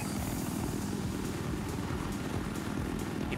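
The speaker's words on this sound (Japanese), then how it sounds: "輸送ヘリか" A transport helicopter flies in the video game Battlefield 4, its rotor and engine making a steady, rumbling drone with faint rhythmic chopping, held at an even moderate level throughout.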